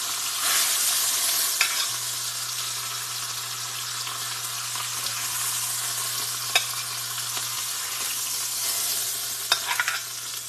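Ribeye steaks sizzle in a hot pan with a steady, bright crackle and occasional louder pops, close and continuous with no voices over it.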